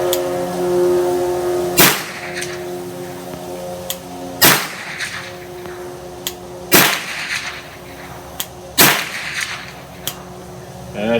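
Suppressed gunshots ring out at an outdoor shooting range, with four loud, sharp cracks spaced a few seconds apart. Each crack trails a short echo, and fainter pops and background hum fill the gaps.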